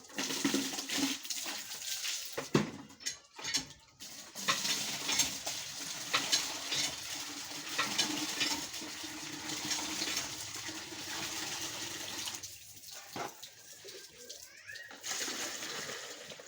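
Taro leaves washed by hand in water, an uneven splashing and swishing that comes and goes in bursts with brief pauses, close and moderately loud.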